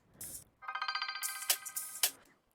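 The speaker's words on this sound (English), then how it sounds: "it sounds like a phone ringing" A phone-ringing sound inside an electronic music track, a trilling tone in a quick pulsed rhythm mixed with breathy hisses and a couple of hits.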